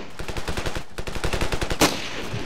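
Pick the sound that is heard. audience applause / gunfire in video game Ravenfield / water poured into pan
gunfire in video game Ravenfield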